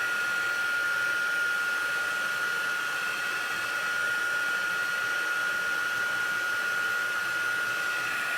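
A heat tool blows a steady, loud hot-air whir while melting embossing powder on a Halloween raven card, running continuously with no pauses or talk.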